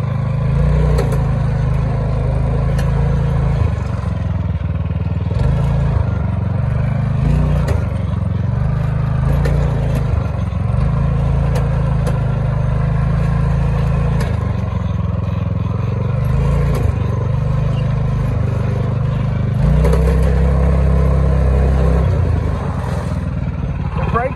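A go-kart fitted with a swapped 301cc engine runs steadily throughout a ride, a loud continuous droning motor with slight rises and dips in pitch and some clattering along the way.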